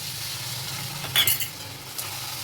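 Cornflour slurry poured into a pan of chili potatoes in Indo-Chinese chili sauce, giving a steady close sizzle with a brief louder burst of bubbling and a spoon clinking and stirring against the pan.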